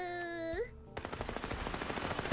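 Rapid bursts of gunfire from real bullets in the video game Little Misfortune crackle loud and dense after a brief musical tone cuts out, shots stacking in a fast irregular rhythm.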